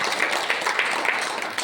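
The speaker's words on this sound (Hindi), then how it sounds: "एक बार जोरदार ताली चाहूंगा इनके लिए।" An audience at a business plan seminar claps together for an honoured guest. The brief patter of applause is moderately loud, with a few sharper hand-claps standing out.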